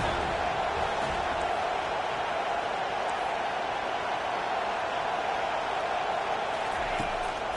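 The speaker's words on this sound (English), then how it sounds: "Decibels rising as the crowd gets behind this defense on third down." Stadium crowd noise at an American football game on third down, a dense steady roar of many voices filling the space at a constant loud level with no individual voices standing out.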